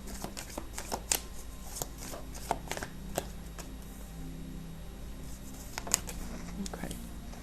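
Tarot cards shuffled by hand in a series of crisp riffling flutters and soft taps, close and moderately quiet, spread irregularly with a low background hum.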